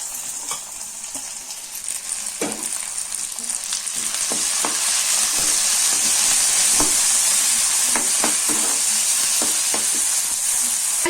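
Chopped tomatoes sizzle in hot oil in a pan while cooking a potato masala for poori, a steady loud frying hiss with scattered ticks and pops of stirring, growing denser partway through, with no voices.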